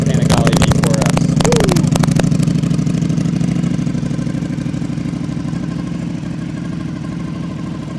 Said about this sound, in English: Titanium Arkapovic Exhaust on the 2025 Panigale V4S.